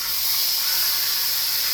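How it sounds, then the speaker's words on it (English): Steady, loud sizzling hiss of chicken thighs searing in hot cooking oil, continuous and close with no pauses or voices. "I'm just going to add some cooking oil down in there, just enough to sear these chicken thighs"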